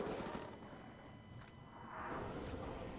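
Muffled gunfire shooting through a wall in the zombie game Mob of the Dead, set in a prison, a few quiet, rough bursts under a faint game hum.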